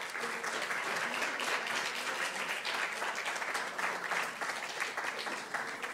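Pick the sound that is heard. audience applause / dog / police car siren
audience applause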